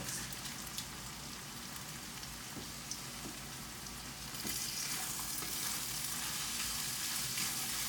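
Meat with garlic and onions frying in a pan, making a constant crackling sizzle like rain on a surface that grows slightly louder halfway through, with no talk.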